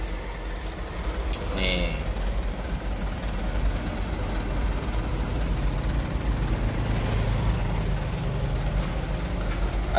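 Low rumble of large diesel truck engines idling nearby in a queue for diesel at a fuel station, steady throughout, with a person speaking briefly over it.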